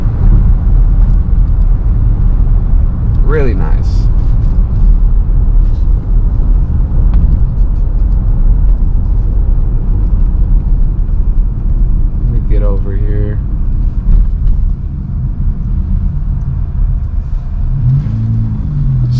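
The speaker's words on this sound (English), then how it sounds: "So right now I'm just driving on normal mode." Steady low rumble of a Lexus RX 350 SUV cruising in normal drive mode, a continuous road and engine drone running the whole time with a brief voice fragment and a couple of faint passing tonal sweeps.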